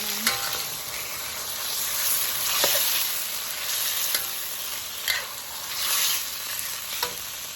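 Pork pad see ew noodles stir-fry in a hot pan, a continuous close sizzle broken by repeated scraping strokes of a spatula at an uneven rhythm, with no one talking.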